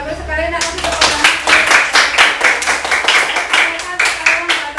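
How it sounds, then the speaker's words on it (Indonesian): A school class claps for a group's presentation: a brief voice opens, then a run of loud, fairly even rhythmic hand claps from a group of students fills the rest, close and distinct. "kasih tepuk tangan"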